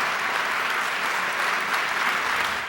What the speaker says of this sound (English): After the vote, his colleagues gave Senator Holcomb a round of applause